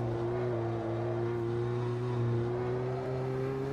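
A Renault Clio's engine drones steadily while driving in the Automobilista 2 racing game, its pitch holding nearly level and rising slightly, loud and continuous with no talk.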